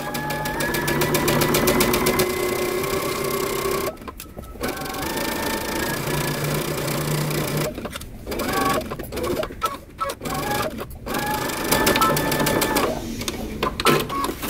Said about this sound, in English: I want you to backstitch at the beginning and sew using 5/8 of an inch seam allowance